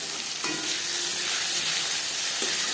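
Garlic fries in hot oil in a pan before arum leaves go in, giving a steady, close sizzle with faint scrapes of stirring and no voices.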